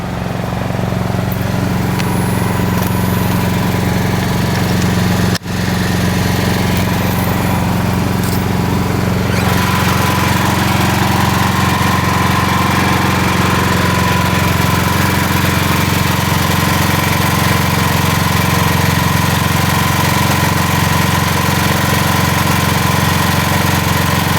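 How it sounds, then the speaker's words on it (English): An emergency generator runs steadily at close range during fire alarm and emergency systems testing, a loud continuous engine drone with a brief clunk early on and a slight shift in tone partway through. "the fan is running, the generator sounds good"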